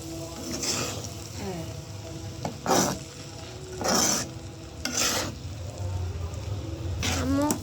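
Bitter gourd frying in a pan with spices, a steady low sizzle broken by several distinct scraping stirs of a spatula against the metal, while a person talks over the cooking.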